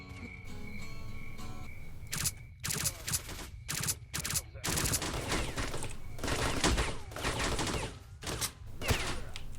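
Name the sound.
gunfire in STALKER: Shadow of Chernobyl video game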